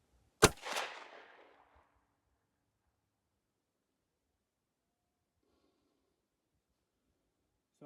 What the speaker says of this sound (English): So now I'm gonna try shoot this top one here at 50 yards.